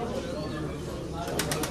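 Pigeons at a pigeon auction in Bayrampaşa Arena coo and flutter amid a noisy indoor crowd murmur, with a few brief wing flaps near the end.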